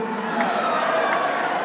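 A live crowd at a hip-hop show cheers and shouts continuously, a dense roar of voices with scattered whoops, fairly loud and steady.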